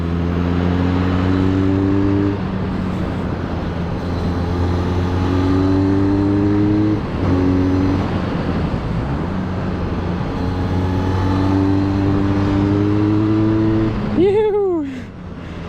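Harley-Davidson X350 or X500 motorcycle ridden on a road through corners, its engine droning loud and steady with gear changes and rising revs throughout, ending in a quick rev sweep; a rider talks over it.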